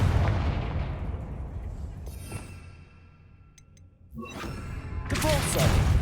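Confringo blasting spell going off in the video game Hogwarts Legacy, a loud booming blast at the start that rumbles away, followed later by a second burst of crackling impact noise.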